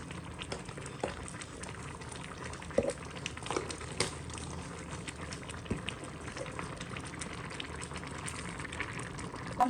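Lentils simmer in water with turmeric for a Jaffna-style dal curry, giving a continuous close bubbling and gurgling with scattered pops, steady and moderately quiet throughout.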